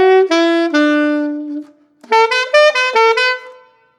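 A saxophone plays a short melody of sustained notes, a pause, then a quicker run of notes, reedy, clear and close, solo.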